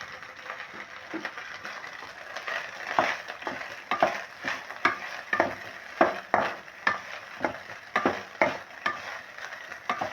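Chicken masala powder is stirred into leftover rice poha in a hot pan. Rhythmic scraping strokes of a spoon repeat over a soft sizzle, growing louder and more regular toward the end.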